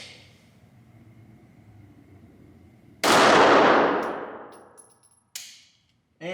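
A Glock 42 pistol firing ammunition it handles poorly: one sharp, loud report with a long decaying ring, then a shorter bang, with faint background noise before the shots.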